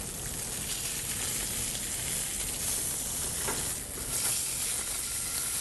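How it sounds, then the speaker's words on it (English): Salmon fillet searing in a hot pan, a continuous close sizzle with bright hissing crackle and a brief swell of spatter near the end, no talk over it. "Golden brown, nicely seared on the salmon."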